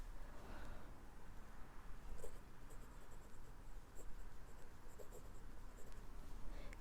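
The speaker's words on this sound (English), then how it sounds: "Follow me to write Cambodia in Chinese characters." Pen strokes writing Chinese characters by hand: faint scratchy scraping in short separate strokes over a steady quiet hiss, with several crisp ticks in the later half.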